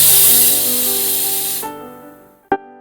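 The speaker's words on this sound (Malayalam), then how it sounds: "ആദ്യത്തെ വിസിൽ ഹൈ പവർ ഇട്ടടിച്ചു." Pressure cooker on an induction stove hissing loudly as it vents steam for over a second and a half, then falling quiet with a faint fading tone before a short sharp burst near the end.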